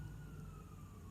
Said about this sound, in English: A lot of sirens going on here too.